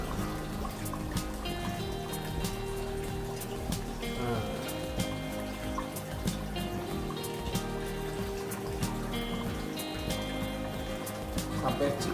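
An eel uses its tail to climb and throws water about, making close trickling and splashing with sharp scattered drips and slaps. A voice talks over the watery sounds throughout.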